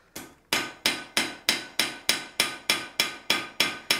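A hammer strikes a hot steel letter opener blade in a steady rhythm, about ten ringing blows a couple of seconds apart, close and sharp with short decays.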